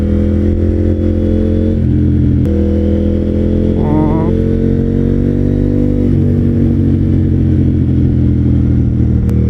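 A KTM Duke 890 GP with a full Akrapovic exhaust system, baffle removed, running loud and close with a deep steady engine drone and throttle swells, a faint voice briefly underneath.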